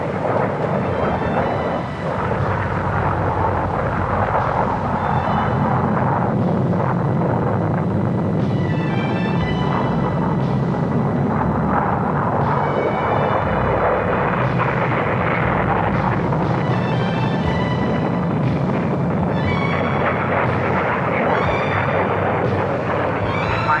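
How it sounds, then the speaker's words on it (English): Aerobatic team of five aircraft flying over the Farnborough air show in 1950, a continuous loud roaring rumble of jet engines swelling and fading as they pass, with no talk. "Five aircraft of the aerobatic team, cutting the sky with lovely curves"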